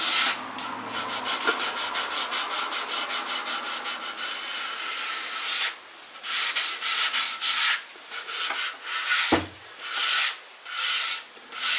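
A two-piece mahogany guitar body, a PRS-style kit body, is sanded by hand with 400 grit sandpaper. Close, loud rhythmic rasping strokes run continuously at first, then break into separate bursts with short pauses between them.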